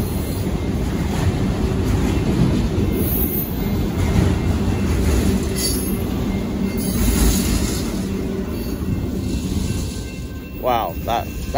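A long northbound Union Pacific mixed freight train with a mid-train DPU passes at Stassney Lane, a steady close rumble and rattle of cars throughout, with a brief squeal near the end.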